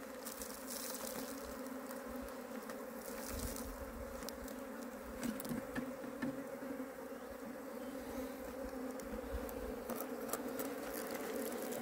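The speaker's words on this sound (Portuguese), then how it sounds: "Sem matar a abelha." A honeybee swarm buzzes steadily during an Apis colony capture and rescue, a dense continuous drone close by with no voices over it.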